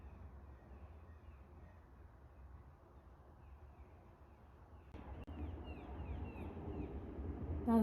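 A brood of young blue jay chicks calls loudly nearby. Harsh, crow-like squawks grow denser and louder after a quieter start over a low background hum.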